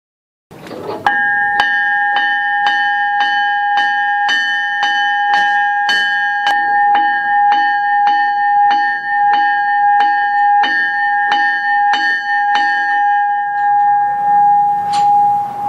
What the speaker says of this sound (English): you can even ring the locomotive's bell